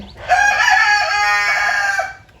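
A chicken, a hen brooding her eggs, gives one loud, close, drawn-out call of about two seconds. The call is sustained and harmonic, with a crowing or squawking quality, and no talk is heard.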